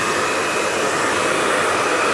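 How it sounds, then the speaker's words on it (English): Hair dryer blowing steadily while a bob haircut is styled, a loud, constant close whooshing hum with an even airflow roar and no talking. "blow drying really is about tension, keeping plenty of tension on the brush"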